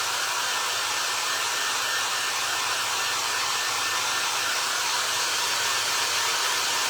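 A hair dryer blows continuously at close range to dry paint on faux apples, a loud, steady, unbroken hiss and whir throughout.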